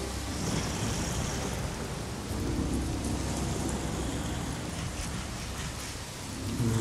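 Steady rain hisses throughout a stormy scene in the video game Days Gone, a dense, even wash of falling water with faint low rumbles beneath.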